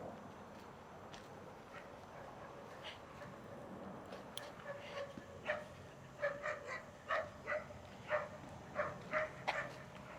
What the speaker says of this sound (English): There are dogs barking over there.